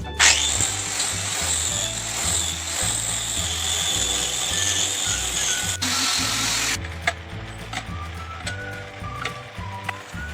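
A power tool runs steadily while smoothing a PVC pipe cap, a close, continuous grinding whir with a rhythmic pulsing pattern, then drops to lighter scraping and clicks near the end.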